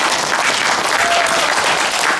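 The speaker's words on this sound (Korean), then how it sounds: "여러분 뜨거운 박수로 맞이해 주시기 바랍니다" An audience at a Korean forum on implementing the Panmunjom Declaration applauds warmly, with dense, steady clapping throughout and no speech over it.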